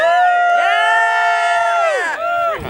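A live beach concert crowd of a couple hundred people whoops and yells together in a loud, close burst of sustained high-pitched cheering voices that drops off near the end.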